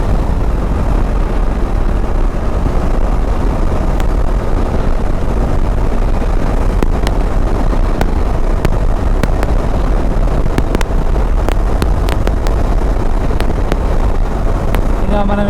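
A Bajaj Dominar motorcycle cruises along a road, its engine droning as a loud, continuous roar, heavy with low rumble and wind buffeting, with occasional sharp clicks and a rider talking faintly underneath.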